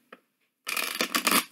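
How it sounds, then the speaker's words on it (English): Tarot cards are shuffled by hand, a brief tap followed by a dense riffling burst of crisp card flicks lasting under a second, close and alone. "5 times I'm going to shuffle."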